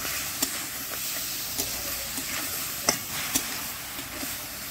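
Spice paste sizzles gently in a pan cooked without oil, a soft steady hiss broken by occasional sharp ticks and light scraping taps from stirring.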